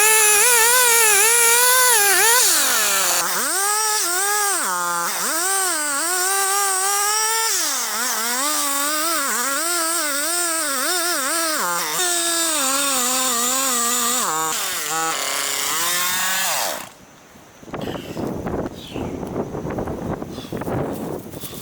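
A chainsaw with a long bar cuts into a big, gnarly boxelder trunk, its loud whining engine rising and falling in pitch as the chain bites and eases, then cutting off near the end, leaving brief rustling.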